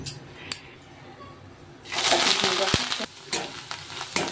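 Bamboo shoots hit hot mustard oil in a wok, a sudden sizzling hiss rising midway and continuing with crackles, preceded by quieter clinks and kitchen handling.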